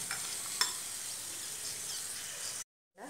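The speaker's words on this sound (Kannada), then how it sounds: "ದ್ರಾಕ್ಷಿ ಗೋಡಂಬಿಯನ್ನು ಪಾಯಸಕ್ಕೆ ಹಾಕಿ ನಿಮ್ಮ ಪಾಯಸ ರೆಡಿ" Soaked raisins and cashews go into kadle bele payasa with a soft, steady stirring hiss and a faint clink, then a brief silence and a quiet scrape.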